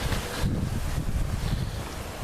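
Strong wind blows outdoors through a central market area in Dzhankoy, Crimea, a constant roaring rush buffeting the microphone with no clear voices.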